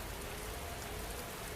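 Steady rain falling on surfaces, a soft, even patter that stays constant and fairly quiet throughout, with no voices or other sounds.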